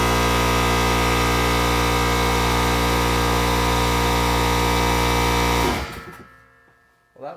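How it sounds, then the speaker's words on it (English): An air compressor runs steadily with a loud, constant droning hum for several seconds, then abruptly shuts off, leaving a brief fading rattle and a short thump near the end. "that was good timing for my compressor to kick in"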